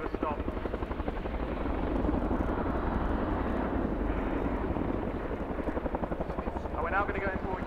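A Boeing CH-47 Chinook twin-rotor helicopter at an air show display roars steadily with deep rotor thumping as it flares to a stop, loud and close throughout with no talk.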